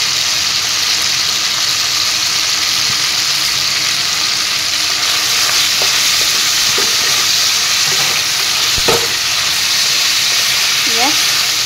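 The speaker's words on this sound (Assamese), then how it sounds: "পিঁয়াজখিনিৰে সৈতেও 2 মিনিট 3 মিনিটমান সময় এনেদৰে ভাজি দিম" Chopped onions fry in a pan after chicken has browned, for a chicken curry with jackfruit seeds, giving a steady close sizzle with occasional stirring scrapes, no voices.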